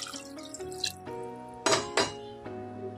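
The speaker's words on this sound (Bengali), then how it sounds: "এবার পরিমাণ মতো জল দিয়ে দিচ্ছি" Water is poured into a pan of chicken and vegetable curry, producing a soft liquid trickle and splashing with a couple of louder splashes, close and fairly quiet.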